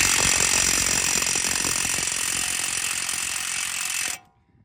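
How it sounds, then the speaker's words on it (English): A corded DeWalt impact wrench with a 32mm impact socket hammers out front strut bolts on a 2020 Nissan Rogue Sport, a loud close continuous rattling buzz that runs for about four seconds and then cuts off abruptly. "We need heavy impact sockets to get these bolts out easier. 32mm impact socket."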